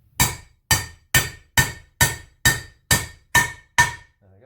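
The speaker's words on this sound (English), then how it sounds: "I remembered my copper hammer this time." A copper hammer strikes a metal Land Rover Defender Puma 2.4 gearbox part nine times in a steady rhythm, each blow a sharp, close, ringing knock that decays quickly, with no talk.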